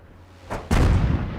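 Artillery fires in the World of Tanks game with a deep, booming report. A softer thump comes first, then the main heavy blast follows and rumbles on loudly.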